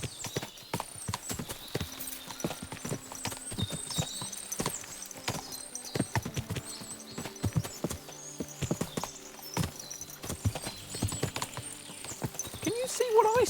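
Horses in Kingdom Come: Deliverance 2 clip-clop on the ground with a steady rhythm of hoofbeats, close and fairly loud, with a brief whinny and game dialogue voices layered over the hooves.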